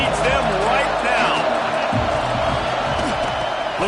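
Game crowd roaring in a Madden football video game, a dense continuous stadium cheer filling the whole stretch with overlapping voices and whoops, steady and loud, under play-by-play commentary.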